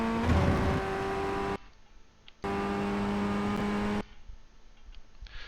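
A Ray FF1600 single-seater in a racing sim at the Hungaroring revs with a buzzy engine tone that cuts out abruptly at upshifts. Two bursts of engine sound are each followed by a sudden quieter gap.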